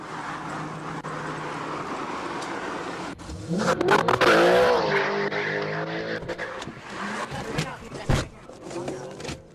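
A green Dodge Challenger fleeing police, its engine surging into a loud roar partway through as the tires skid and squeal, then the revving fades slightly before a final burst.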